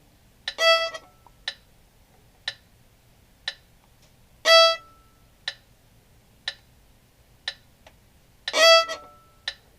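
Three short violin notes bowed at the tip of the bow, evenly spaced, sound over a steady, soft metronome-like ticking in an otherwise quiet room.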